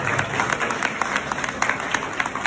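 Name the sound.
audience applause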